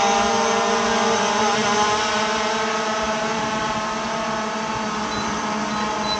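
An SG 906 Max3 quadcopter drone hovers with a loud, constant high whine of spinning propellers and stacked steady tones, heard close and alone without any speech.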